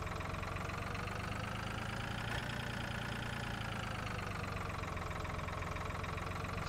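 A small tractor with a plough attached idles in the Farming Simulator 2013 video game, giving a steady, unbroken engine drone that holds evenly throughout with no voices.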